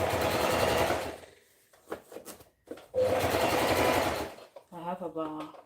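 A sewing machine stitches fabric for a dress in two loud, close bursts of rapid whirring, separated by a pause, and someone speaks briefly between and after them.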